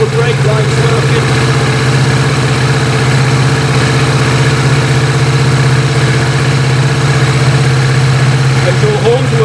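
A motorbike engine idles with a steady low throbbing hum, constant and close throughout with no change in pitch.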